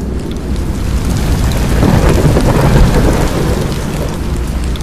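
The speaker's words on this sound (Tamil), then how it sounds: "அப்படியே மெதுவாக மழை பெய்ய ஆரம்பிக்குது." Steady rain falls with low rolling thunder rumbling through, building to a heavier swell midway and easing slightly toward the end, loud and continuous with no voices.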